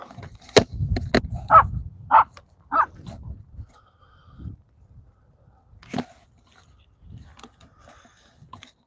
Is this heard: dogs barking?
yes